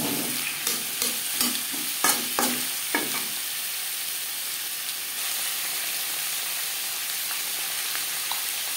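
Vegetables with freshly added carrots fry for a Bengali moong dal khichuri, a loud steady sizzle throughout, with several sharp spoon scrapes at the start before the hiss carries on alone.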